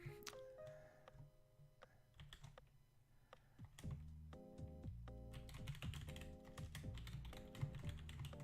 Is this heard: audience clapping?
no